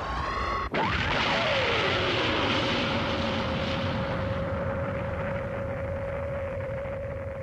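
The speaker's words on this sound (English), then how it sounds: "Marvel, tell Doa to get the Zalana ready for takeoff." Anime sound effect of an aircraft taking off, a loud roaring engine rush with a falling then steady whine, following a brief rising tone, sustained and close.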